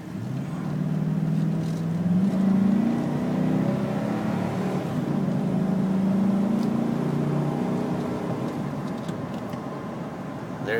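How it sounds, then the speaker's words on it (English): A 2004 Chevrolet Silverado 2500HD 4x4 pickup engine revs up steadily, its pitch climbing, dropping and climbing again as gears shift, heard close and continuous throughout. "See if I can give you some gas and watch it shift here without getting a ticket."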